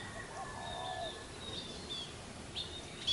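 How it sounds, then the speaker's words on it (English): A house finch sings faintly outdoors near a bird bath at a finished tiny house, giving soft, thin chirps and warbling phrases over a quiet background hiss. "Got a house finch singing along."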